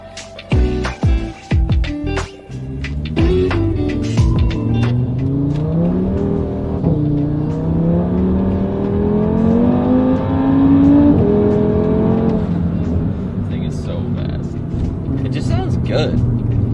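A Volkswagen GTI fitted with an aftermarket exhaust revs up after a few sharp blips, its engine note climbing and holding in a loud, steady drone with mid-range boom before easing back down, with someone speaking over it.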